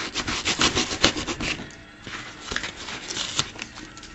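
Floral foam cut and shaped with a blade, a rapid rhythmic scraping and rasping, close and fairly loud, easing off midway before a few more strokes.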